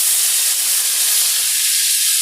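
Cauliflower florets sizzle loudly in hot oil in a home kitchen, a dense steady hiss close to the pan with no talk.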